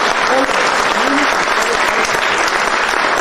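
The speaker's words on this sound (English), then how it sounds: "So another big clap for them." Loud, dense clapping from an audience at a Puja Committee gathering, welcoming visiting performers; the applause is steady and close, with a voice speaking briefly over it.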